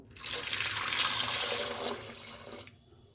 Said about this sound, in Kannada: ಅದಕ್ಕೆ ಇವಾಗ ನೀರು ಹಾಕ್ಬಿಟ್ಟು